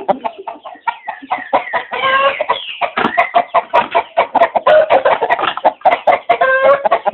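Bearded chicken, a fowl judged decent for retail, clucking steadily in a close, continuous run of rapid calls with no talk over it.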